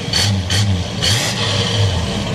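A 1965 Pontiac Parisienne Sport Coupe engine rumbles at a low idle and is blipped in several short revs, each rising briefly before dropping back.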